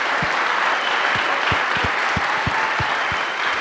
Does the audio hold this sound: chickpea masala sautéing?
no